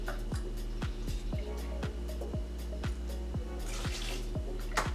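Fireball cinnamon whisky pours into a cocktail in a steady liquid stream, quiet and close, with a rhythmic glugging pulse from the bottle throughout.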